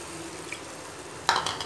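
Water is poured into tomato masala for an egg curry in a pan. A quiet hiss and a sudden splashing gush come near the end.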